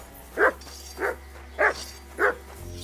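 A dog in the medieval video game Kingdom Come: Deliverance II barks four times at a steady, evenly spaced pace, moderately close over a low constant hum of game ambience.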